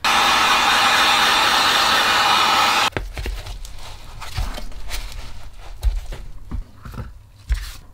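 A heat gun blows steadily while heat-shaping an EVA foam armor piece for a Winter Soldier arm, a loud continuous whoosh for about three seconds before cutting off, followed by quieter handling knocks and thumps.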